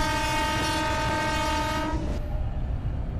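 A simulated EMU local train on the Sealdah–Dankuni line runs steadily with a loud, continuous rumble and tonal motor whine, plus faint rail clatter. The tone shifts partway through.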